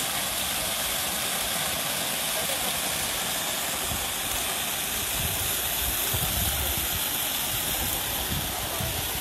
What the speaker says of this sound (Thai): เราจะได้ยินเสียงน้ำตกนะครับ